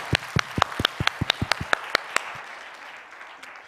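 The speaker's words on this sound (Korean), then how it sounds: "박수 한번 다." A congregation at a Wednesday evening church service gives a short burst of applause: a dozen or so distinct claps in quick succession, fading out after about two seconds into quiet room tone.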